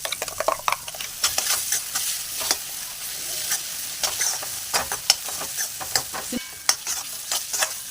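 Ground ginger, garlic and pepper masala paste fries in oil for a Tamil coast-style crab curry, with a steady loud sizzle broken by repeated scraping stirs and clinks close by, and no talking.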